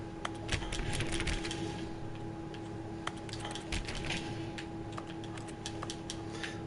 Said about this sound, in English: why is it making the keyboard clicking noise?